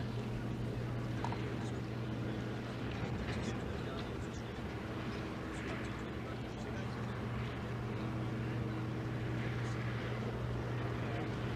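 A Harrier jump jet engine running on an outdoor test bed produces a steady, continuous roar with a strong low hum and a broad hiss, unchanging in loudness throughout.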